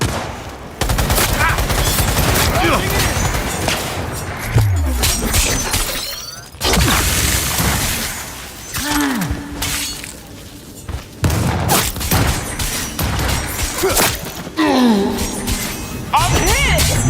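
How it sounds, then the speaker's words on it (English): Heavy artillery and rapid gunfire roar through a Cyberpunk 2077 firefight, loud dense bursts with shattering impacts and booms, while voices shout over the battle. "Heavy artillery!"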